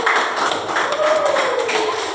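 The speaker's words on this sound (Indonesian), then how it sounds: "Tepuk tangan buat kelompok satu." Schoolchildren in a classroom applaud a presenting group, a lively patter of many hands that runs steadily throughout, with a faint tonal murmur of voices underneath.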